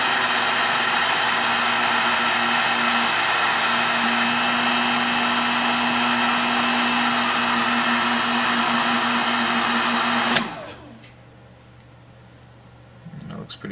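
A heat gun blows steadily on a painted jig head to reflow and smooth the paint, giving a loud continuous whooshing hum that cuts off abruptly near the end, leaving faint room noise.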